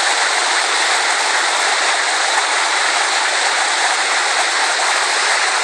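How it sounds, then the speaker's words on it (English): Water rushing over rocks in Hummingbird Creek, a steady, loud and unbroken broadband roar of the stream heard close by on its own, with no talk. "Never gets old, the sound of water rushing over rocks."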